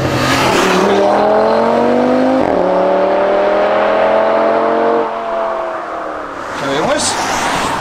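Straight-piped Audi RS6 exhaust revving hard and loud up close, engine pitch climbing and holding in repeated pulls with a brief dip, voices faintly present around it.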